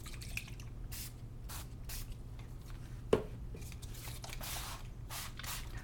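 Repeated short hissing bursts of a spray bottle misting liquid onto artwork, soft and close, with a single sharp tap midway and no voices.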